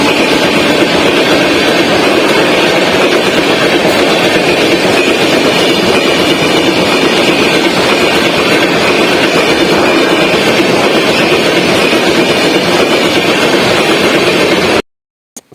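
Trains rolling through a station on the Manmad to Hazrat Nizamuddin line in India, a loud continuous rumble and clatter of wheels held steady for about fifteen seconds before cutting off abruptly.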